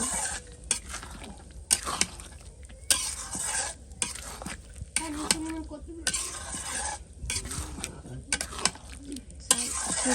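Food stirred and fried in a pan while cooking, with a steady sizzle under repeated scraping and clinking of a utensil against the pan, close and fairly busy throughout.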